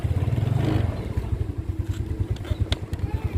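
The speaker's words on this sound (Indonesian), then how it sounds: "Kalau mesin suaranya masih halus." A 2010 Yamaha Mio Sporty scooter engine idles close by with a smooth, steady low putter, and a few faint clinks come through toward the end.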